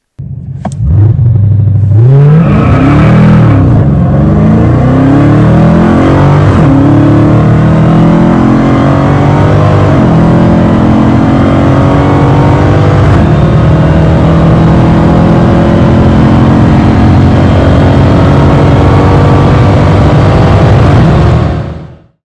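A supercharged V8 Dodge Charger Hellcat roars loudly and climbs through several gear shifts of its 8-speed automatic, the deep growl rising and dropping with each change, sustained for about twenty seconds.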